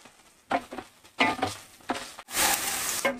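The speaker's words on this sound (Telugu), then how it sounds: "ఇప్పుడు మనము ఒక పెద్ద సైజు ఎర్రగడ్డ సన్నగా తరుక్కొని వేసుకోవాలి" Thinly sliced onion, a large one, sizzles and crackles in a pan of hot oil while frying for a drumstick sesame curry, in loud bursts broken by short stirring pauses, with no talking.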